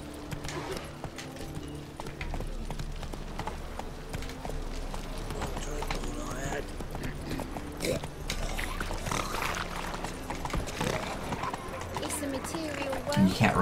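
In The Witcher 3 video game, horse hooves clip-clop in a rhythmic trot, with an occasional neigh, under a player talking over game music and effects.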